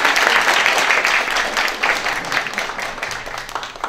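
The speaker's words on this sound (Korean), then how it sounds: "박수 부탁드리겠습니다." An audience at a political youth town-hall event in Korea bursts into lively applause, dense clapping that swells and then gradually fades.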